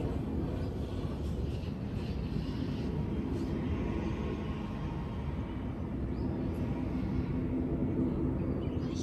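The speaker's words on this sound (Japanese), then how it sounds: "飛行機が 飛んできました。" A plane passes over the Yanbaru coast of Okinawa, a steady low engine rumble that fills the whole stretch at an even level, with no voices over it.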